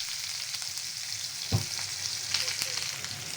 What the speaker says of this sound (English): Onion give and fry.